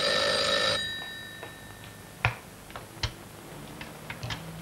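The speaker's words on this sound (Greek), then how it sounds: "Άσε μην το σηκώνεις, θα το πιάσει η Μπέτη μέσα από το σαλόνι" An old telephone rings indoors in a 1982 Greek film: one bright electronic ring fades out, followed by quiet room ticks and small knocks.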